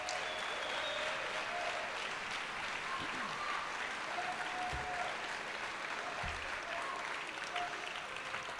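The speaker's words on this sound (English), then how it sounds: "Round of applause, please." Sustained, even applause from an awards ceremony crowd, steady clapping throughout with a few faint voices and thumps underneath.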